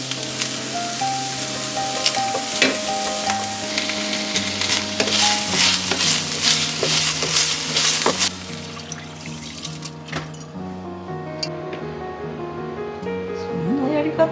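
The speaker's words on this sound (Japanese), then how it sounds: "ローストビーフ先に焼くんだった。" Roast beef sears in a pan with a steady sizzling hiss and some stirring and water sounds, at moderate volume against a sustained tonal background, quieting partway through.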